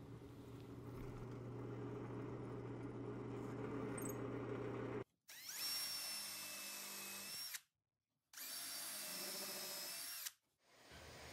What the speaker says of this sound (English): I'll pre-drill and countersink holes to connect the stretchers to the feet.